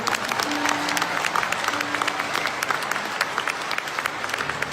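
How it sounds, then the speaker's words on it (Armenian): A concert audience at a solo show bursts into sustained applause, many hands clapping densely together with crowd noise, loud and steady throughout. "Եկեք բարձր ծափանենք։"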